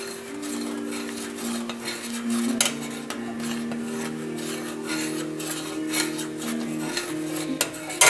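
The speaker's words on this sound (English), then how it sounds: "Keep it stirring." A spoon stirs sauce in a pan, a continuous close rasping scrape with rhythmic strokes and occasional sharper clinks against the metal, with no talking.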